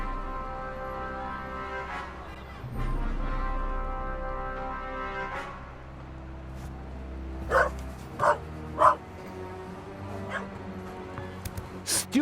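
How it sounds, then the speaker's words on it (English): Little dog in the video game The Raven, giving several sharp, loud barks in quick succession midway, with quieter yips and a voice around them over a low musical background. "This little dog is crazy about the ball."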